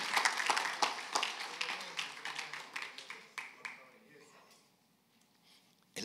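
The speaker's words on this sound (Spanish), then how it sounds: "Un aplauso al Rey de Gloria" Applause breaks out in a church Bible class as the congregation claps for Jesus of Nazareth, dense at first, then thinning to scattered claps that fade to near silence.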